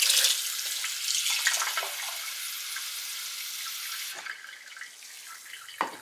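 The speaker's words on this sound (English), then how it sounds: "So I've just added 1 cup of water" Water poured steadily into a cup for freeze-dried beef broth, a continuous close hissing stream that thins toward the end with a couple of faint drips or clinks.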